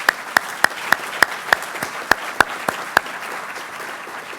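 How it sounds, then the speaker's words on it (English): Applause at a military change of command ceremony, heard as a handful of sharp, evenly spaced claps, about ten in a row, close and distinct, then stopping. "let's give them a round of applause if we could"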